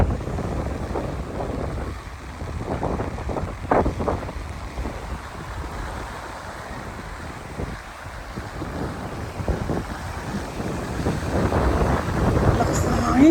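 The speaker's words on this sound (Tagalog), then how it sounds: "Lakas ng hangin." Strong wind buffeting a boat at sea off Romblon, a continuous gusty rush with bursts of microphone wind noise and waves, and a voice speaking briefly over it.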